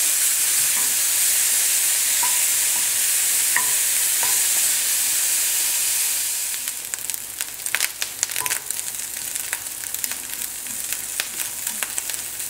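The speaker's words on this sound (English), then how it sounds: "we're going to cook this until it goes crispy, like bacon bits" Chopped chicken frying in a pan until crispy, a steady loud sizzle throughout with occasional stirring scrapes, the hiss thinning and crackling more toward the end.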